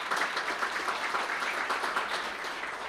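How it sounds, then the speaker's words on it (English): Breakfast audience at a mayoral state of the city address in Elmhurst breaks into steady, dense applause that stays even and fairly close throughout. "Go ahead, applaud that, yeah."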